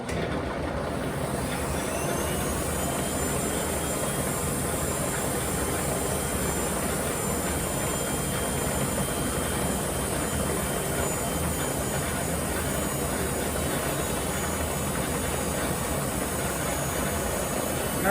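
A Dremel rotary tool spins against a lathe's dead centre for grinding, a steady dense whir with a high continuous whine that holds unbroken throughout, close and fairly loud with no talk.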